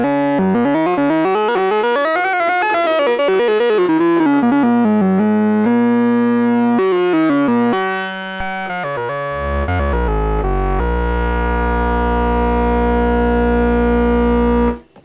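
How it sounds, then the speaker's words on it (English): Roland SH-3A synthesizer with chorus engaged, a sustained buzzy oscillator tone sweeping up and down in pitch with a pulsing, detuned shimmer, later holding a steady note over a deep bass drone. "The chorus effect can detune it, but it also gives that interesting pulse width modulation effect."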